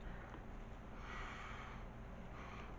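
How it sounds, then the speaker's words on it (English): Someone takes a few close, breathy sniffs of a shea butter moisturizing lotion. Two soft inhaling bursts come through quiet room tone, with no talking. "We're going to have to give this a sniff."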